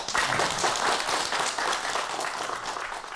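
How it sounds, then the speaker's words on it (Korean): Audience applause following a lecture on a new mini-tram public transit system at a broadcast talk event; steady, dense clapping from a sizable crowd that holds evenly throughout without talk. "다시 한번 박수 부탁드립니다."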